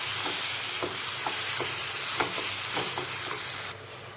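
Olives fry in a pan with jaggery being stirred in, a constant close hiss with regular scraping strokes of a spoon every half second or so, ending abruptly, with no voices.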